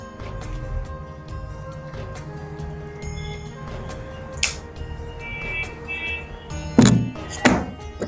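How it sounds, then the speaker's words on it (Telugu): Onion being cut with a knife on a board in a home kitchen, a few scattered soft knocks and taps over a quiet hum, with two sharper chops near the end. "ఒక ఆనియన్ కట్ చేయాలి."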